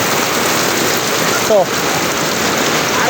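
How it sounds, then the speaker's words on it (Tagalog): Heavy rain pouring down, a loud, continuous broadband rush of water on surfaces throughout, with a brief spoken word briefly rising above it midway. "Lalo pang lumakas ang ulan."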